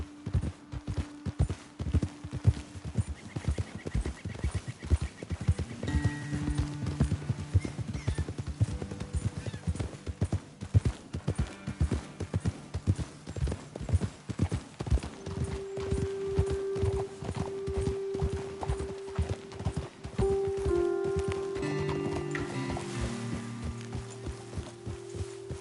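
Horses galloping in a video game, a dense, steady clip-clop of hooves running throughout at close range, with a tonal music or ambient layer rising and shifting over it and a brief whinny near the end.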